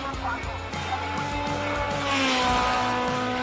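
A Lola race car on a hillclimb course, its engine a loud steady drone near the microphone that swells toward the end, with a commentator talking over it.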